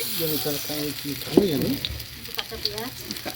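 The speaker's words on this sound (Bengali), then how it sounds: "কি খাসির তেলে বড়া হচ্ছে নাকি" Rice-flour and maida fritters with marinated mutton frying in goat fat, a steady crackling sizzle running under several voices talking nearby.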